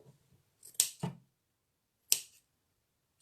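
Scissors snip around a handmade miniature dough gnome: three short, crisp cuts, the first two close together and the third after a pause, alone in an otherwise quiet room.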